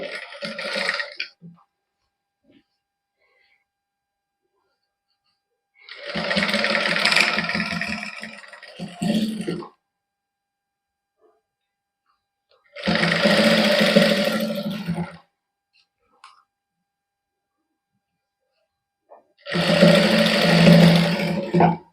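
A sewing machine stitches lace onto a simple suit in three separate bursts of steady whirring and rattling, each a few seconds long, with quiet pauses between them.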